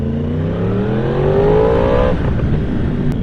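A 2016 Yamaha R1S motorcycle engine in A mode revs up sharply, pitch climbing steadily for about two seconds before the throttle cuts and it drops back to a rough, loud idle, close by.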